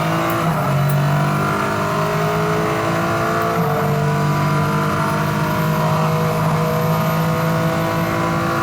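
A Mercedes AMG ONE driving on a race track, its engine holding a loud, sustained, even tone with layered harmonic whine throughout, heard up close and continuous.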